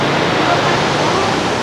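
A wide river rushes near the Asin Tunnels along the Nangalisan–Asin Road, a loud, continuous broadband roar of flowing water filling the whole stretch.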